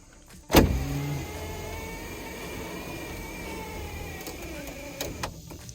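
A sunroof motor on a G-body Grand National runs after a seal repair: a sharp clunk, then a steady electric whir for several seconds, ending with a few faint clicks.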